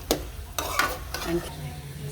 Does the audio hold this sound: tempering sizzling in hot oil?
yes